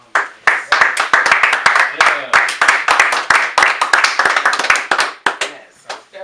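A studio audience claps for a guest arriving at an UndergroundHittas Radio interview, dense continuous applause with sharp hand slaps running about six seconds, loud and close.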